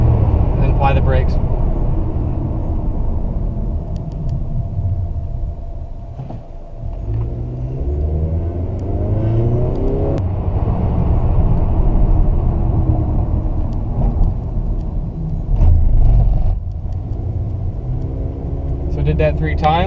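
A 2007 Toyota Camry driving at around 70 then braking, a steady low road rumble and engine drone heard from inside the car, easing and surging as speed changes, with a voice talking over it.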